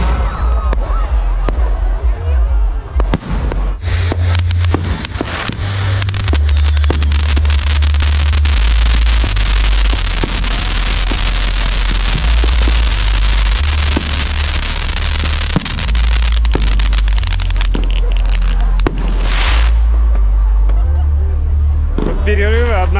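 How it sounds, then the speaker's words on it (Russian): Fireworks burst continuously over Patong beach on Phuket at New Year, a loud, dense crackle and rumble of overlapping explosions mixed with crowd noise. "Постоянно бьют салюты."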